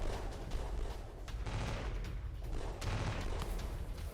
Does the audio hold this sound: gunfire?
yes